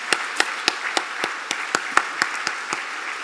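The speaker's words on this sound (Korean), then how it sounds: "박수 한 번 더 올려드리겠습니다." Churchgoers at a Sunday service clap in a steady, even rhythm, a dozen or so crisp claps standing out close over a soft wash of room noise.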